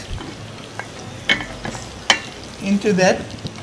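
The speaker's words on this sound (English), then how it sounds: "I'm doing this on very low heat because I don't want the butter to actually become oil." Butter melting in a pan over very low heat for grilled prawns gives a soft, faint sizzle with a few light clicks and scrapes, and a voice speaks briefly near the end.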